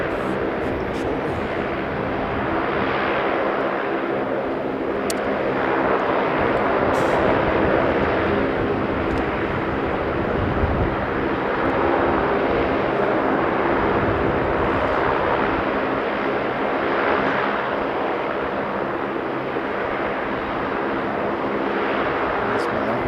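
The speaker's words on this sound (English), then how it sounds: "we're seeing Latam taxi down and do a takeoff shortly" A LATAM airliner taxis and then takes off at Sydney airport, its jet engines a steady, swelling roar at a distance while someone talks over it.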